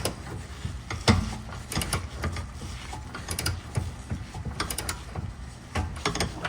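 A wrench works a rusted sway bar nut loose on an Acura TSX, with repeated metallic clicks, ratcheting and scraping in irregular bursts, close up.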